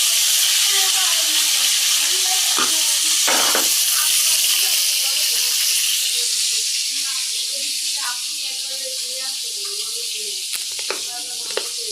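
Fish fries in a pan with a steady, bright hiss of hot oil, close and continuous, while a person talks over it with occasional clinks and knocks.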